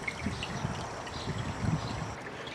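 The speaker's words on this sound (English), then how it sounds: "Let that drain one more time." Water draining from a pool sand filter during backwashing, a steady soft gush and trickle with faint splashes, fairly quiet and continuous with no voices.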